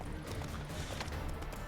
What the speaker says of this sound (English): Ride like the wind, horse.